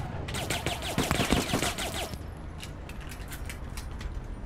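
In the online shooter APB Reloaded, rapid gunfire rattles out in a dense burst of loud close shots for about two seconds, then trails off into scattered fainter cracks and clicks.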